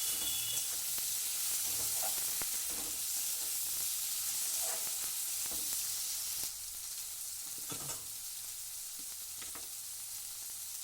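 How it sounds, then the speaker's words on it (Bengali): Chopped tomato fries with onions in a pan for an egg and cauliflower dish, a soft steady sizzle broken by intermittent scrapes and knocks of the stirring spoon, and it drops quieter partway through. "টমেটোটাকে দিয়ে একটু পেঁয়াজের সাথে নাড়াচাড়া করে নেব।"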